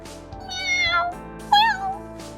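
A small kitten meows twice in a video game story scene, short high wavering cries over a soft steady background tone.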